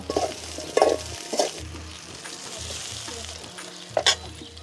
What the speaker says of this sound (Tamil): அப்படி வதக்கிக்கலாம்.